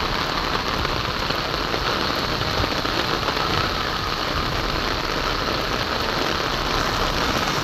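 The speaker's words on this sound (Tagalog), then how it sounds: "Ayan, bumuhos na naman ang ulan guys." Heavy rain pours down in a steady, dense, loud roar of drops hitting surfaces, unbroken from start to end with no pauses.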